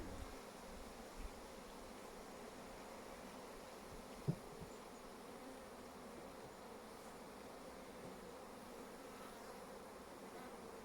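Honey bees swarm around a hive frame during a sunflower honey harvest, a steady low drone of buzzing that holds at an even level throughout, broken only by one brief knock partway through.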